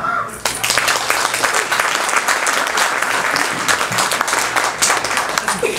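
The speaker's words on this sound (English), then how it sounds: "light on the applause" Audience applause at a mayoral debate held at The Ramshead in Annapolis, Maryland: a steady, loud crowd clapping that fills the room for several seconds without a break.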